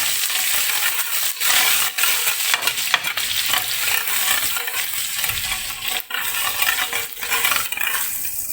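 Garlic-ginger paste roasts in hot oil in a pan for chilli chicken, a steady close sizzle and frying hiss with scraping and clinking of a spoon stirring against the metal throughout, no talk.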